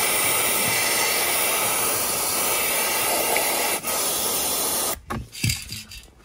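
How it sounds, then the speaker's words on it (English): A long continuous spray of aerosol grease hissing close up for several seconds, then stopping, followed by a few brief clicks and handling noises. "I'm just gonna spray them with a bit of grease"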